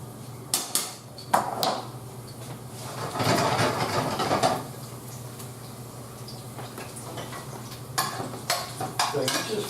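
Sole fillets and shrimp cooking in a pan, with clattering utensil scrapes and brief sizzling bursts at irregular intervals, close up, no speech.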